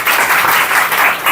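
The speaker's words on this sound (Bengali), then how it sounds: "চলো একটা হাততালি জোরে সোমকের জন্য।" Loud, dense applause from a group for a student at a coaching institute, close and sustained throughout with no voices.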